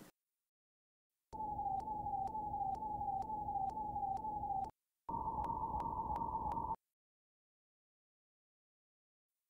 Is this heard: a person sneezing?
no